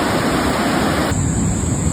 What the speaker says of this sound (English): Video taken by a local resident yesterday afternoon shows floodwaters surging over Boyle Road